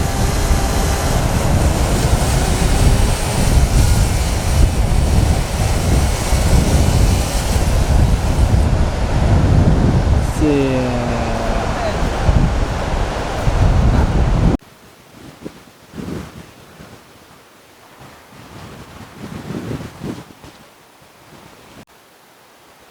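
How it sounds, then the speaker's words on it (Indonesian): Strong wind roaring and buffeting a microphone on a beach alongside crashing sea waves, loud and unbroken at first, then dropping to a quieter, gustier rush partway through. "semakin tinggi anginnya semakin kencang"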